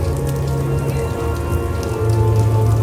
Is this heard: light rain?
yes